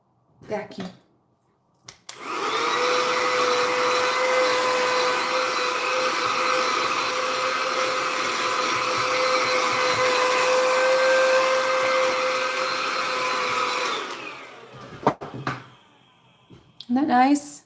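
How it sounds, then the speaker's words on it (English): A vacuum cleaner runs steadily for about twelve seconds at close range, a loud whine with a sustained tone, after the squeak of a new nail buffer; brief handling noises come before and after. "Vacuum."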